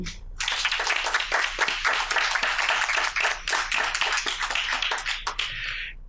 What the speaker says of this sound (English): giving them one last round of applause